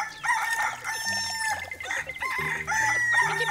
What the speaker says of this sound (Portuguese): Por que os galos estão cantando?